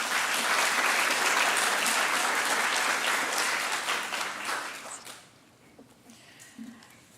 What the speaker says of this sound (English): Let's give them both just another round of applause.